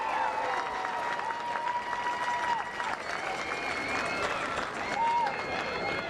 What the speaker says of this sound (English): let's please give these Lions another round of applause for all that they have done